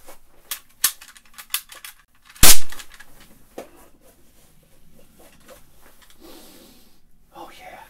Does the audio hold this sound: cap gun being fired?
yes